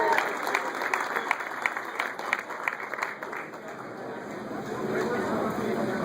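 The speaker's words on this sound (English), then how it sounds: "Give her a round of applause" Audience applause at a car dealership reveal of a Jaguar F-Type in Sacramento, moderate crowd clapping at a middle distance with a steady hum underneath, voices chattering through it as it thins toward the end.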